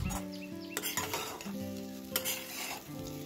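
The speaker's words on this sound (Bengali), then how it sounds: "ক্রমাগত লো ফ্লেমে এভাবে নাড়াচাড়া করে যাবেন, তাহলে সুজিটা কিন্তু ঝরঝরে থাকবে" A spoon scraping and stirring semolina for jhal suji in a pan over low flame, with repeated clinks and scrapes against the metal over a soft sizzle and a steady background hum.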